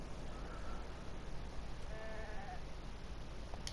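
In the video game Beyond: Two Souls, two brief, faint sheep bleats rise over a steady windy outdoor ambience with no talking.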